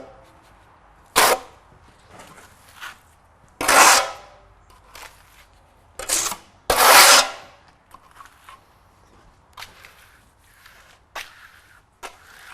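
Lime plaster finish being applied to a wall with a trowel, several loud, sharp scraping swipes spaced a few seconds apart, followed by softer, fainter strokes.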